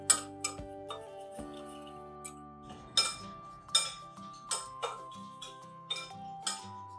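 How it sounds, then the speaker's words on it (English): A spoon scrapes and clinks against a bowl while dry ingredients for dal and rava handvo, including sugar, are stirred together, giving a series of irregular close taps and scrapes with quiet gaps between them. "Let's mix all these dry ingredients once."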